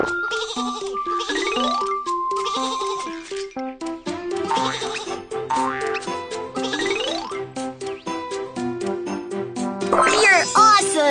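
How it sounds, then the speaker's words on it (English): Cartoon sheep on a train track bleat repeatedly in bright, wavering cries over a bouncy children's song with chimes and a bit of childlike voicing, loud and up close throughout. "Some sheep are on the train track."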